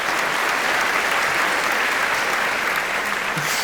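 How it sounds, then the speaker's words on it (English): An audience at a business talk applauds, loud and sustained clapping from many hands that holds steady from start to finish, heard close with no break. "Thank you very much for the round of applause."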